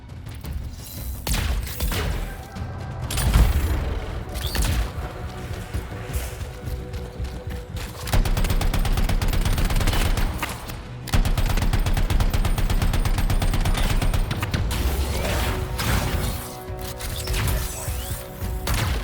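Gunfire from a really large gun in the video game Anthem, with sustained, loud bursts of rapid automatic shots and heavy mechanical clatter over a long stretch, amid battle noise.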